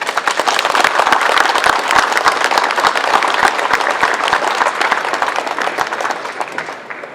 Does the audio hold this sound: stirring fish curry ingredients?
no